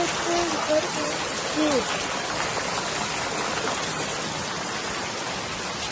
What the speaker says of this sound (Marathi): किती हो पाऊस